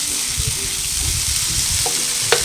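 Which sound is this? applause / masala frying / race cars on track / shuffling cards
masala frying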